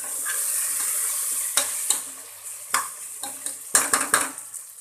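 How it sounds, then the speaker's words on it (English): Soft sizzling of mutton frying in a pan for biryani, with a spoon scraping and clinking against the metal several times. "Fry it for another 5 minutes."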